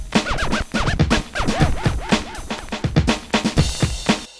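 Vinyl sample looped in Music 2000 on the PlayStation, a scratchy record passage with rising and falling pitched sweeps over steady rhythmic thumps, loud and continuous with no talk.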